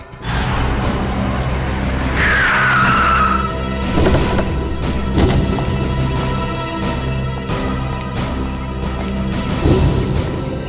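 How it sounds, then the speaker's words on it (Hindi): A car loses control, skids and crashes into a wall. Engine noise carries a rising tire squeal partway through, then several sharp, loud impact bangs follow, with no talking. "उनकी गाड़ी का बैलेंस बिगड़ा, स्टीयरिंग पर से कंट्रोल छूटा और गाड़ी इस दीवार से आके टकरा"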